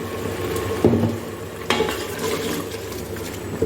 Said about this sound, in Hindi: अब मसाले को अच्छी तरह भून लेंगे